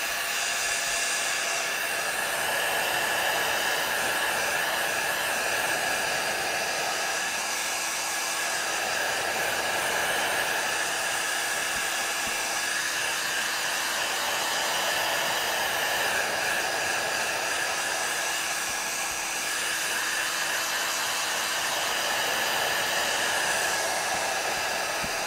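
A hair dryer blowing steadily on wet paint over a collaged cool box, its even whirring hum running continuously and close by, alone without talk.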